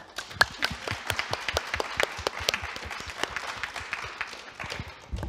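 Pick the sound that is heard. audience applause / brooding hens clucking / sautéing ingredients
audience applause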